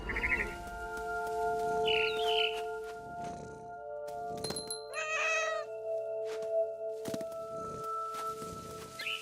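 A cat meows and caterwauls repeatedly in the video game What Remains of Edith Finch, loud drawn-out cries broken by pauses, with a bird's chirping and soft footsteps in between.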